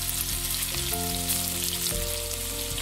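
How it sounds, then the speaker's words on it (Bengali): Chicken frying in a kadai gives off a steady, dense sizzle as it is stirred, with occasional scraping bursts throughout. Tonal hum runs underneath the close crackle and no voices are heard. "এবার কড়ার মধ্যে বাকি যে চিকেনটা আছে সেইগুলো সব একসাথে দিয়েই একটু নেড়ে নেব।"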